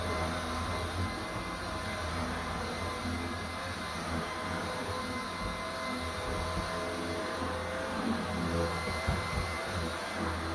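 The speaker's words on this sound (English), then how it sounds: "All the hoovering is done, the house is tidy." A household vacuum cleaner runs in a UK home, giving a steady, even whir that holds throughout at a moderate distance with no talking.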